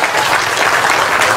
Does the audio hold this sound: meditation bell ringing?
no